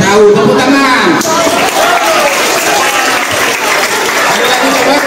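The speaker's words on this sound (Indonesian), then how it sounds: "tepuk tangan" Students applaud during a school visit, a dense sustained burst of clapping filling the room, loud and continuous, with voices mixed into the crowd noise.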